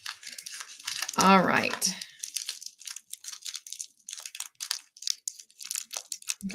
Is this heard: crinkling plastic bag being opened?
yes